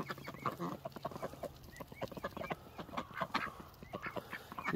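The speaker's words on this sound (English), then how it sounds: "You can see the difference in size between Jerome and a wild duck" Ducks and other fowl in a mixed backyard flock call together at a distance, a busy, faint tangle of quacks and clucks that overlap continuously.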